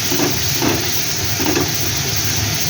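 Boiled young jackfruit going into hot, sizzling masala in a pan, a loud, continuous hiss and crackle with soft rhythmic stirring thuds underneath.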